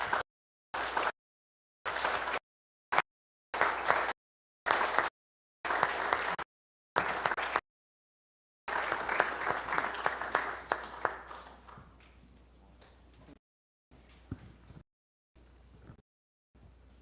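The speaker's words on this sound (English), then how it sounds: "let's give them a round of applause for their performance" Church congregation at a Sunday evening service applauding teens after their performance, a steady crowd clapping that swells then thins out, heard in chopped segments with gaps of silence.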